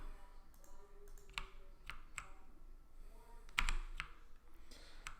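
Keyboard typing and mouse clicking during PC play of Modern Warfare, a scattering of sharp, irregular clicks and taps, some louder than others, over steady game background sound with no talk.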